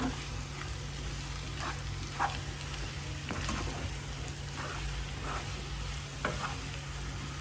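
Potato pieces stirred in a pan for a potato roast: an ongoing sizzle with repeated scraping and tapping strokes of a spoon.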